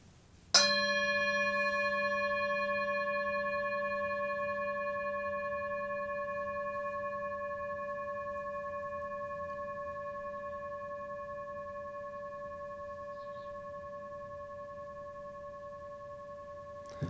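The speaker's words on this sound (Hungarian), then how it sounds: "Egy tálharang hangja." A singing bowl is struck once and rings on alone for over fifteen seconds, its clear layered tones sustaining steadily while fading only slowly.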